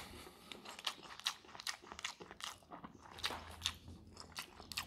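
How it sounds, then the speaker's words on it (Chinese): Close, wet chewing and soft crunchy bites of braised pork knuckle in a salty-sweet braising sauce stirred into white rice, repeating in an uneven rhythm with no talking. "我过来吃一口，吃一口饭。"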